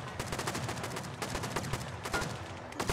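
Dense gunfire in Rust 2.0 during a large raid with friendly fire, overlapping rifle shots in quick irregular bursts, continuous and fairly loud with no pause.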